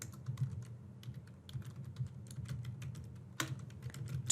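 Fingers type on a computer keyboard in quick, uneven runs of soft clicks, ending with a couple of louder keystrokes in a quiet room.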